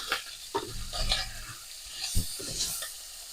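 Bacon stirred in a pan for carbonara, with scraping utensil strokes and soft sizzling in short bursts at close range, no talk.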